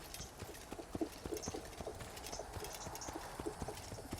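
Horse hooves clip-clop steadily in the Assassin's Creed video game, a quiet, even walking rhythm of hoof strikes with a faint background ambience.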